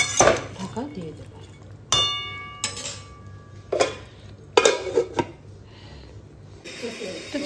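Chicken being stirred in a pot, then the lid set back on: several sharp metallic clinks and scrapes of spoon and lid separated by quiet pauses, with a faint voice between them.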